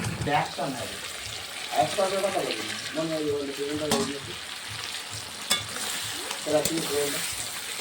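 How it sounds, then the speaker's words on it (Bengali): Potatoes and onions sautéing in a pan for a fish curry give a steady sizzle broken by scraping stirs, with a voice murmuring faintly in the background. "আলু পেঁয়াজটা আমি গলিয়ে নিয়েছি, ভালো করে কষে নেবো।"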